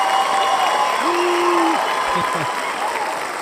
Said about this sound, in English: Big round of applause, damn it, for Ruby right now.